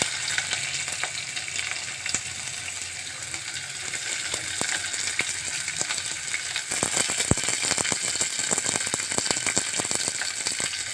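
Chana dal, curry leaves and onion fry in a pan with a steady close sizzle, and crackling pops and spatters grow denser partway through.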